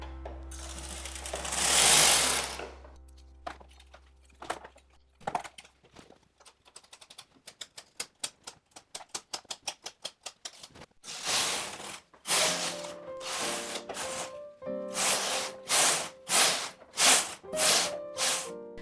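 A machine-knitting carriage sliding back and forth across a knitting machine bed while knitting rows, giving repeated bursts of rattling clicks and ratchet-like clatter separated by brief pauses, close and clear with no voices.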